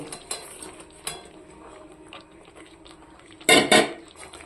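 Fried pointed gourds tipped into a cooking pan, heard as light clinks and scrapes of utensils followed by a louder clattering tumble near the end.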